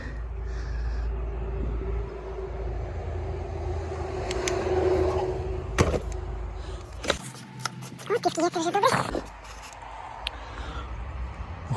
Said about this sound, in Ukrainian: Заведемо автомобіль, побачимо, як він працює.